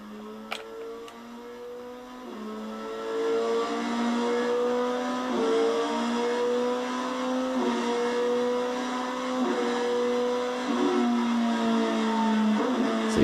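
A KTM 390 motorcycle fitted with a Dynojet quick shifter revs through a series of downshifts, its engine pitch stepping up and down in a rhythmic sequence of gear changes, heard alone without talk.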